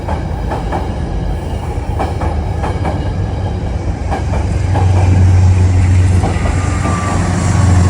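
A train rolls through a station in Harlem, New York, a loud continuous rumble with rhythmic wheel clicks and a low steady drone building near the end; no voices.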